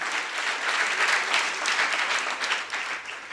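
A church congregation claps loudly and steadily for about three seconds, a dense continuous applause that rises and falls slightly with no voices over it.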